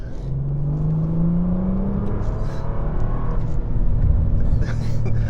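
A 2020 Bentley GT with close to 800 horsepower and a dual-clutch transmission pulls hard, its engine note rising steadily through the gears in a loud, continuous surge heard from inside the cabin.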